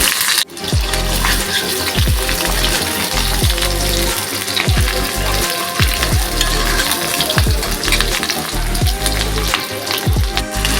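Onion with ginger and garlic frying in hot oil in a kadai gives a steady, close sizzle, broken by repeated soft knocks of stirring; no one speaks.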